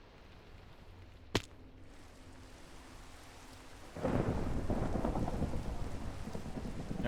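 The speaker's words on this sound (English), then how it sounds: "Never seen like such an aggressive thunderstorm." A sharp thunder crack hits early over a quiet background, then heavy rain surges in and hisses steadily to the end during a fierce thunderstorm in the Minecraft modpack Monifactory, played in hard mode.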